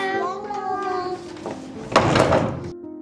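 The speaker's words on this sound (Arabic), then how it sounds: "تعالوا سكروا الباب" A door swings and closes in a home with a brief thump and rattle near the end, preceded by a voice, fairly close and loud.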